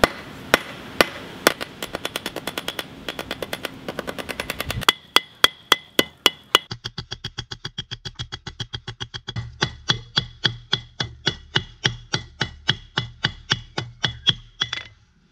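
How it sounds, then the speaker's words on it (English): Cold steel is hammered on an anvil, loud ringing blows in a steady rhythm, sometimes quick and sometimes spaced, each with a sharp metallic clang close by. "It takes a fair amount of pounding, and you really need a high quality anvil."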